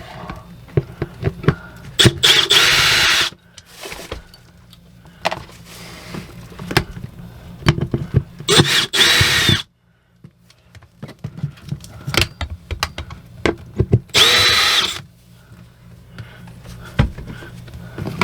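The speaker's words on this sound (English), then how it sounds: "Let's get some of the screws out of this pump. It's got 4 screws that hold it to the wall." A power drill backing out the four screws that hold a water pump to a wall, heard as three separate bursts of whirring motor whine with scraping and clattering handling noise between them.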